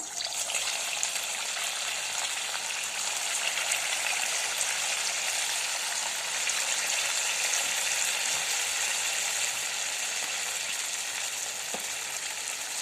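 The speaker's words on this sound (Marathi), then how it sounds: "चार चार वडे करून तळून घेणार आहे मी" Sabudana vadas frying in hot oil, a steady dense sizzle and crackle held evenly for the whole stretch with no talking over it.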